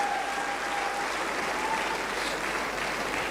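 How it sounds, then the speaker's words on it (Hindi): An audience claps together at a business talk, producing a steady, dense wash of applause that holds at an even level throughout, with no voices heard over it. "उनके लिए एक हाथ ताली हो जाए।"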